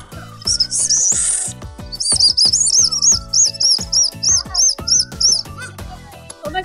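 Shrill warbling chirps from a whistle candy imitate a bird, coming in a long trill and then a series of short repeated tweets over rhythmic background music.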